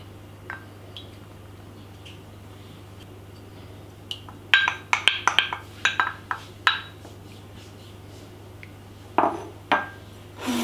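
An egg and whipping cream are stirred together in a bowl, giving a close cluster of sharp clinks and taps of utensil against the bowl, with a couple of isolated knocks before and after over a steady low hum.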